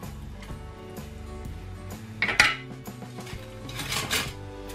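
Cream and milk stirred in a saucepan to dissolve curd powder for a no-bake flan cake, with a spoon clinking and scraping against the metal pan in repeated close taps and a sharper knock midway.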